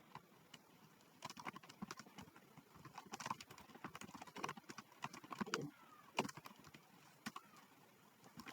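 Someone types on a keyboard in MS Word, producing soft scattered key clicks at an uneven pace, faint and close in a quiet room.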